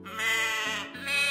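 A goat bleats in a Hindi animated moral story about two goats crossing a narrow bridge: one loud, wavering bleat that dips briefly and then rises again, heard alone and close.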